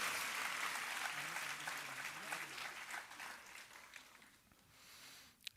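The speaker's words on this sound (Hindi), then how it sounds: "इस क्रम के लिए एक बार पुनः से जोरदार तालियां हम सभी की ओर से" Audience at a Chetana Divas birthday celebration for Dr. Pranav Pandya at Shantikunj, Haridwar, giving loud sustained applause that gradually fades away, with a brief murmur underneath.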